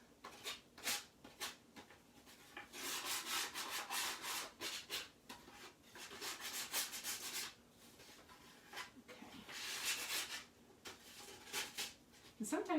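Hand sanding the corners of a wooden sign, soft rhythmic rubbing strokes in bursts close by, with a voice talking at times between them.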